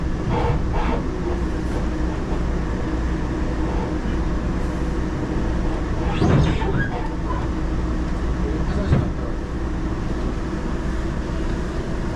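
Steady low rumble of a train rolling on rails in Taiwan, heard from inside the carriage, with continuous broadband wagon noise and a few louder clunks midway.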